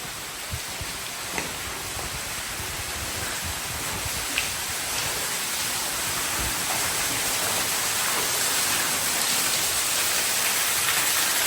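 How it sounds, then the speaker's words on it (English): Steady water splashing and dripping in an underground mine shaft, a continuous hiss with a few faint drip ticks throughout, fairly close with no talking. "you could probably hear the water in the background"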